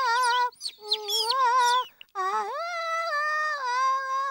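Cartoon bird clucking in a children's animated episode, a run of close, bright, shifting clucks and squawks, a brief pause, then a longer sustained wavering call with no talk over it.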